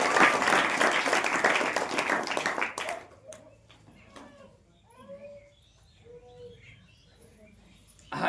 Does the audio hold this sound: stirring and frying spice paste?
no